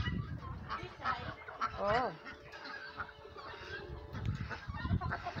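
A mix of geese, ducks and chickens honk and call at feeding time, with one sharp rising honk standing out, while a person speaks briefly nearby.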